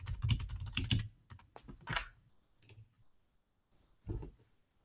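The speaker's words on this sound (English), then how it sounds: "type in the name of your page." Computer keyboard typing in short rapid bursts, fairly close, with a pause and then a final brief flurry of keystrokes; no talking.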